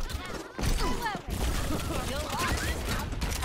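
Overwatch match with dense game gunfire, rapid shots layered over clattering effects and chirpy sound cues, loud and continuous, with a brief dropout early on.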